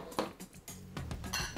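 Fruit salad being stirred in a bowl, heard as a short run of soft clinks and knocks of a utensil against the dish, close by, irregular and fairly quiet.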